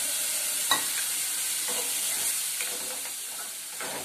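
Onion with crushed garlic and ginger frying in a pan for egg curry, a soft continuous hiss and sizzle with occasional light spoon scrapes, quiet and close, no talking.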